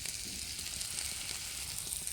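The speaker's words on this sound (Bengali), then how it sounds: "সরষের তেল দিয়ে ভাজছি, ভেজে রাখছি" Onions, garlic, dried red chillies, cumin and salt fry in mustard oil, giving a continuous close sizzle with crackling pops and no one speaking.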